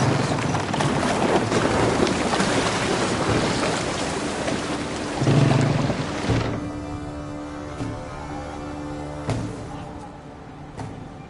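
Ship sailing through waves in the Roman-era strategy game Anno 117: Pax Romana, a dense, steady wash of surging water and hull noise that drops away abruptly partway through, leaving a quieter ambient bed.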